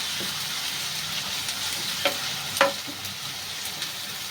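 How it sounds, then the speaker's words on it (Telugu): Ginger garlic paste sizzles in a pan with a steady close frying hiss, broken by a few soft scraping clicks from stirring. "వేసుకొని పచ్చివాసన పోయేంత వరకు ఒక 2 నిమిషాలు వేయించుకుందామండి."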